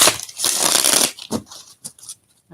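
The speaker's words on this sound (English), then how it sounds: "I'm going to shuffle." A deck of tarot cards is shuffled by hand close up, with a long rustling riffle at first, then several shorter brushing and tapping bursts separated by brief quiet gaps.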